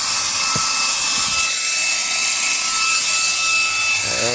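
A Reikiya mini handheld cordless vacuum cleaner runs steadily at close range, a loud continuous high whine with a faint rattle of debris near the start, with no talking.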